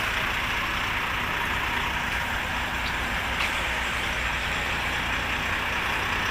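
A 20-wheel truck rumbles steadily at a roadside checkpoint during cattle loading, a constant broad engine drone mixed with outdoor noise, fairly distant and even throughout.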